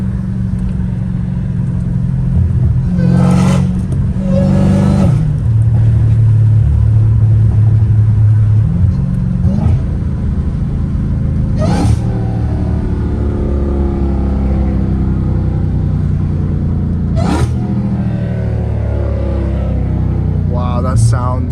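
A catless Dodge Challenger Hellcat Redeye rumbles loud and close, its engine and exhaust revving in several sharp bursts over a steady deep idle, with a voice talking over it at times.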